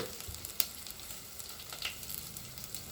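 Asafoetida and turmeric sizzle softly in hot oil, a quiet, even frying hiss with a couple of faint clicks from a utensil, heard alone without talk.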